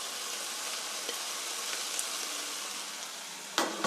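Pork and sliced oyster mushrooms stir-frying in a pan, a continuous close sizzle with light stirring ticks and a sharper clatter near the end, no talking.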